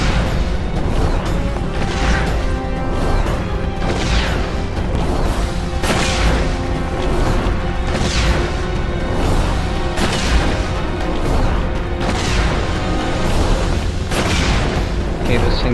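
Repeated booming explosions in The Witcher 2 fantasy game combat, loud dense bursts recurring every couple of seconds over a constant wash of noise, with a voice talking over the top.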